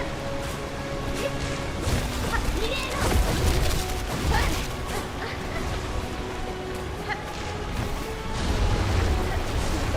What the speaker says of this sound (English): I'm trying to figure out what causes those explosions.